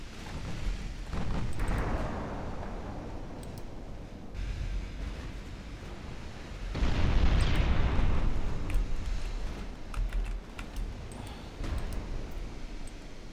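Shell explosions in a naval warfare video game, a series of deep rumbling booms that swell and fade over a constant windy, surf-like roar, with a louder blast midway and no talking.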